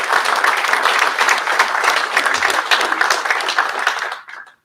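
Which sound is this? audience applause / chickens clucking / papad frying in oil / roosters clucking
audience applause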